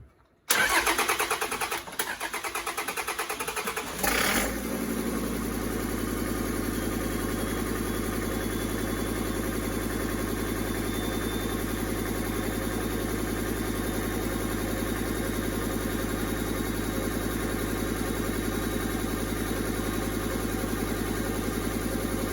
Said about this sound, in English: Just flat out, let's crank her and give her some fuel pedal.